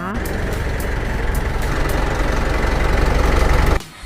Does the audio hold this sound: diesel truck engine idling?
yes